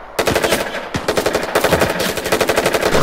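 Machine gun fire rattles in a video game: a short pause after the first shots, then long rapid bursts of evenly spaced reports, loud and close, with no voices.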